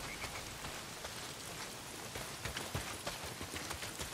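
Rain falls in the Days Gone video game, a faint, steady patter of drops with soft scattered taps.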